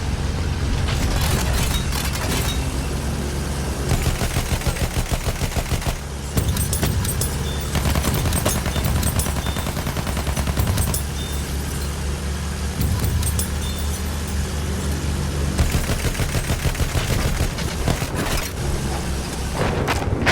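A bomber plane in the video game Battlefield 1 drones loudly through a bombing run, its engine roar continuous beneath rapid booming blasts and rattling bursts of gunfire.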